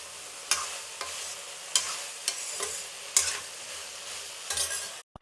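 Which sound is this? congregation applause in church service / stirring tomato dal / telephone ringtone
stirring tomato dal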